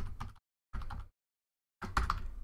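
Computer keyboard keys clatter as a new password is typed, in three quick bursts of clicks separated by short pauses, close and clear with no voices.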